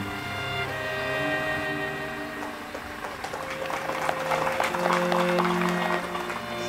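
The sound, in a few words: audience applause at a church inauguration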